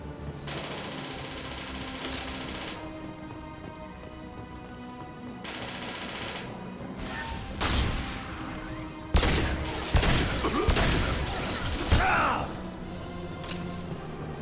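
Sci-fi gunfire in Mass Effect Legendary Edition: long stretches of rapid weapon fire broken by louder sharp blasts and shattering impacts, fairly close and sustained, with game sounds around it.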